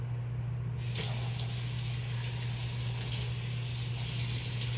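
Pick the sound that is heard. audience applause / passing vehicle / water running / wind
water running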